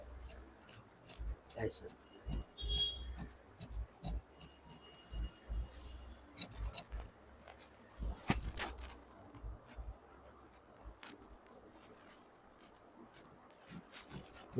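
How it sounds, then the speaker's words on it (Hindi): Scissors snip through blouse fabric around the armhole in a run of close, crisp cuts with short pauses between them, while a voice speaks briefly. "अब मैं इसे काट के निकाल दूंगा, थोड़ा सा मार्जिन दे देंगे"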